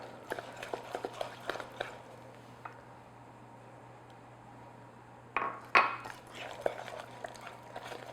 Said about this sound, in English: we are going to whisk in our 4 large egg yolks that are at room temperature